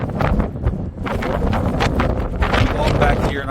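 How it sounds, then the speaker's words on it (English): Wind gusts across a rooftop in Memphis, buffeting the microphone with loud continuous rumbling and rushing noise throughout, while someone talks under the blustery roar. "I guess it's always going to be a little windy up here."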